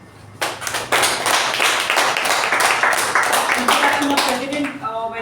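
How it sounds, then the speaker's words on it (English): A club meeting audience breaks into loud applause for a member, many hands clapping in a dense, sustained burst that starts abruptly and fades slightly at the end, with faint voices near the close. "a thunderous round of applause for him"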